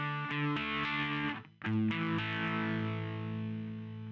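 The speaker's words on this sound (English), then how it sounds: "I got distortion on right now" A heavily distorted electric guitar rings out sustained chords, briefly cut off and then struck again, sustaining loudly and fading slowly.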